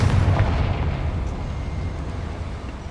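In Hogwarts Legacy, the Confringo fire spell detonates in a heavy booming blast. A deep rumbling burst hits at the start and decays into a loud, steady roar over a few seconds.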